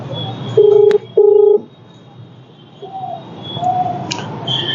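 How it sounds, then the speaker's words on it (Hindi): Telephone keypad tones beep twice, a pair of clear, steady dial tones while a number is being dialed, followed by faint room noise and a few soft distant chirps. "तो शमशादा जी को फोन करेंगे"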